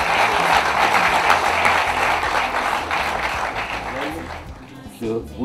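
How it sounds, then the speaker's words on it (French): Crowd applause at a Gabonese party congress of the Union pour le développement et la liberté, a dense sustained clatter of many hands with a voice speaking over it, tapering off toward the end. "Sous vos applaudissements."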